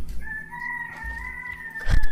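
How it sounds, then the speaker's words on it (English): A rooster crows in a Fortnite match, one long drawn-out call heard clearly and fairly loud, with a thump of game noise near its end. "Whose rooster is that?"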